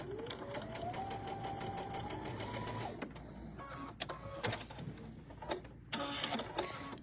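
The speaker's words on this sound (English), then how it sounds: "we're going to stitch again straight on the diagonal" A sewing machine stitches quilting fabric on the diagonal for a tabletop banner, running in a steady, rising whir for about three seconds, then stopping. Brief clicks and handling noises follow, with a short burst of motor sound near the end.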